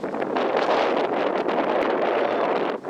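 Strong, steady wind buffets the microphone outdoors at a hilltop lookout during a metal detecting outing, a continuous loud rumbling roar with gusty swells and no talking.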